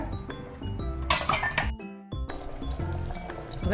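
A metal plate clinks down as a lid onto a pan of simmering jackfruit seed gravy, a bright close clatter followed by a brief hush, then the soft bubbling of the gravy continuing underneath.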